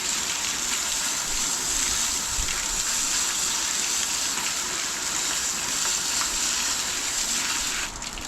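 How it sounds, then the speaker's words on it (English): A light, even water spray from a hose nozzle washes out a cleaned crab, making a continuous close hiss that runs almost unbroken, easing off slightly at the very end. "Wash the crab out."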